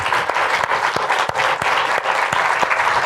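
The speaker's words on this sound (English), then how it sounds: "Please give them an applause." Loud, full audience applause after a legacy lecture, with dense continuous clapping and occasional sharper claps punctuating the wash, heard close and unbroken from start to finish.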